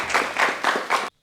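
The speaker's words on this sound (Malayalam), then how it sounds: "നല്ലൊരു കൈയടി കൊടുക്കുക." Audience clapping at a college comedy event, a short burst of applause in several swelling waves that stops abruptly near the end.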